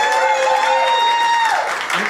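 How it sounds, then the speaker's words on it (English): A live show audience in a black box theatre claps and cheers loudly in a dense, continuous wash. A sustained tone runs through the crowd noise and then slides downward. "y'all give her a big round of applause."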